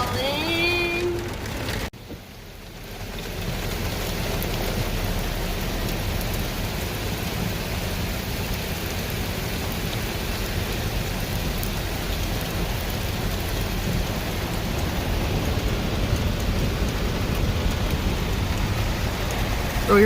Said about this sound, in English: Smoky Mountain rain keeps on falling.